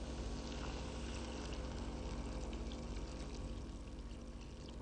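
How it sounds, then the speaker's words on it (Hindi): Water pours continuously into cut vegetables cooking in a pan, a steady, close rushing splash lasting several seconds without talk. "अब इन सब्जियों में पानी जब डल गया है"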